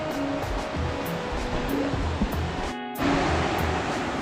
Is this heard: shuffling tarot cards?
no